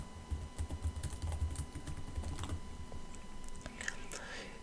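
Someone types a root password on a computer keyboard while installing a CentOS 8 server, a quick uneven patter of soft key clicks close by with brief pauses. The room is otherwise quiet.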